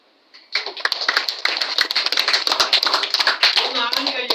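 Students at a school camp at Anandashram clapping together in a dense burst of sharp claps that starts abruptly and keeps going, with talk underneath.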